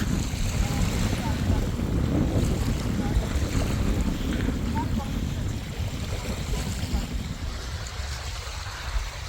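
Strong sea wind buffets the microphone with a continuous low roar, blended with waves washing on an island beach at Dhal Char, with someone speaking intermittently.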